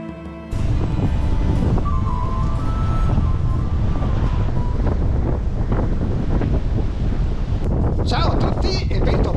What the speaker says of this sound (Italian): c'è un vento terrificante e gelido